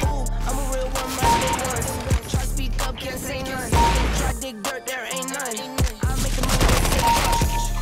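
Rapid automatic gunfire in a first-person shooter played on a budget gaming PC, loud dense bursts of shots with brief pauses and game effects between them, heard without talking.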